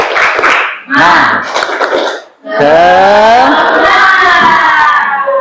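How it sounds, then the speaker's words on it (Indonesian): Schoolchildren in a classroom perform a rhythmic spirit clap: two short bursts of clapping come first, then loud voices chant and shout together in unison, close and energetic. "Tepuk semangat."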